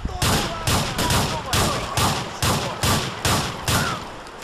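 Shotgun blasts from Grand Theft Auto IV fire in a steady series of about nine loud, evenly spaced booming shots.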